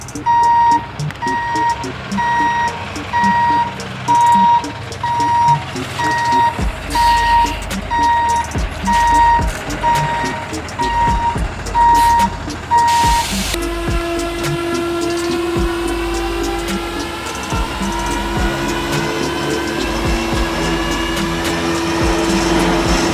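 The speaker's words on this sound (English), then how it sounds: "the tow truck has arrived to come pick up the Miata" A tow truck arriving to collect a broken-down Mazda Miata: loud, steady reversing beeps repeat over a rumbling engine for about thirteen seconds, then stop, leaving a whining mechanical drone.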